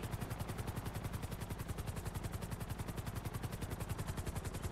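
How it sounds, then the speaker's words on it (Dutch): A helicopter in the GTA 5 video game comes in to land, its rotor beating in a steady rapid chop with a loud, dense engine roar throughout, with no break or pause. "Ben je zo sterk geweest met landen met een heli?"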